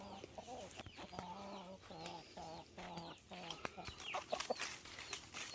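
Rhode Island Red chickens cluck repeatedly in a farmyard, a rhythmic run of short calls that is fairly close but modest in level over background noise.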